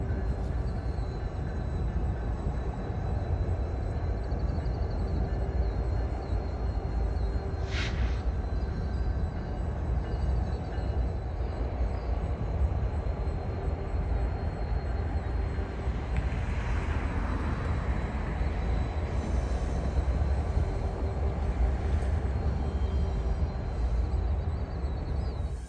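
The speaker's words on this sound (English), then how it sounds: "the lash up I told you to remember was heading back in my direction" A BNSF locomotive lash-up near Galesburg Yard gives a steady, loud low rumble that holds for the whole stretch, with a brief higher tone partway through and no pauses.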